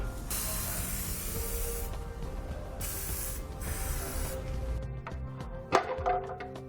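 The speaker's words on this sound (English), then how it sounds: "I'm just going to take a little bit of spray lubricant, spray them down" Spray lubricant sprayed onto the rubber exhaust muffler isolators of a 2018 Kia Sportage. Two long, close hissing bursts are followed by a few faint mechanical clicks.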